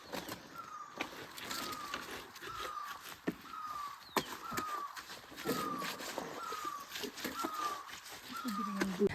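Small birds chirp and crows caw around a cold village water source in Dwarahat near Ranikhet, Uttarakhand, where washing is being done, with repeated short calls recurring at a steady pace over a busy outdoor background.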